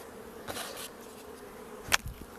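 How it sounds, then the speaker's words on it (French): A hornet buzzes around a beehive in an apiary in October, a steady insect drone with a few sharper close passes, moderately quiet against faint outdoor background. "Encore un autre frelon."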